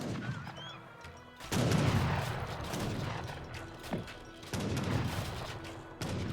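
Musket and rifle gunfire from a battle in the strategy game Age of Empires 3, bursts of crackling shots rising loud around two seconds and again near five seconds over a busy battle din, with no talk.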